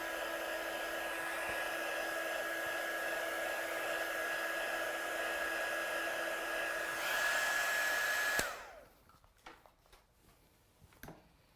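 Hair dryer blasting a watercolour die-cut card to dry it, a steady close whooshing hum with a faint whine that cuts off abruptly, leaving quiet handling noises.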